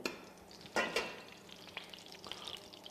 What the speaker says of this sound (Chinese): 锅中放入少许底油